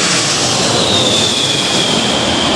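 Boeing 747 jet engines roar loudly and close by at an airport, a steady, dense, full-band rumble with a high whine running throughout.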